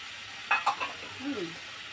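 Onion, ginger, garlic and chili fry in a pan for egg gravy, giving a faint steady sizzle with a couple of sharp utensil knocks and a brief tonal squeak.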